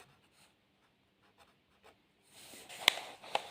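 A pen or pencil writes on paper during a math lesson, first as faint, sparse scratches and then as a denser, closer scratching run with a few sharp taps.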